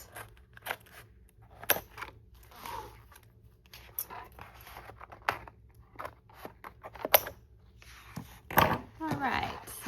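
Scissors cut through paper journal sheets in a series of irregular crisp snips and rustles, close to the mic, with a voice briefly audible toward the end.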